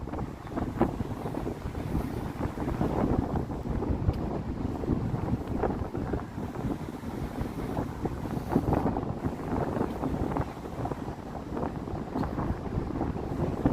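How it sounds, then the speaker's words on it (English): Strong wind buffeting a microphone on an outdoor walk along the Toronto lakeshore in winter, a steady, loud low rumble and roar that never lets up. "Down a notch there, wind."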